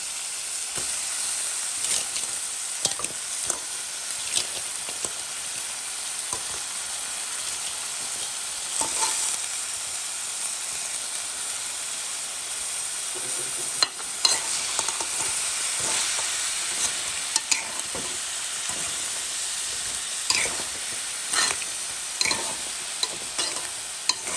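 Crab pieces frying and being stirred in a pan for crab curry, with a steady close sizzle and repeated scraping stirs throughout, no talk.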